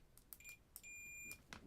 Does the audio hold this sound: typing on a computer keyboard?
no